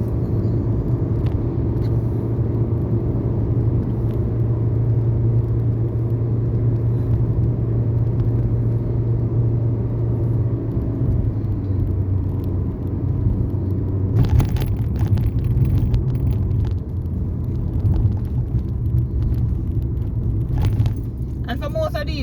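A car drives along the South Coastal Highway in St. Thomas, Jamaica, through cool mountain stretches at around 80 km/h, with a steady close engine and road rumble, a faint whir, and brief rattling later on.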